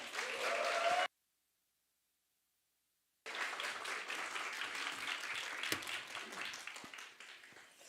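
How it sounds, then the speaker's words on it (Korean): Congregation applause welcoming an evangelist at a church youth gathering, steady clapping from a crowd broken by a two-second dropout of complete silence, then resuming and gradually fading toward the end. "이런 큰 박수 소리를 들어보네요"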